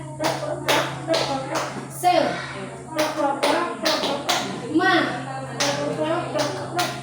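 A class claps a rhythmic tepuk semangat chant, sharp hand claps in quick patterned groups close by, with voices speaking between the beats.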